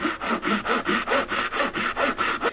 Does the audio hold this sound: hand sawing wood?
yes